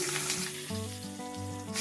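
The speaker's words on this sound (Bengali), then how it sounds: "এইভাবে আমি আরো বাকি দুটো মাছ ভেজে নেব" Boal fish frying in hot mustard oil in a kadai, a steady close sizzle with low humming tones running underneath throughout.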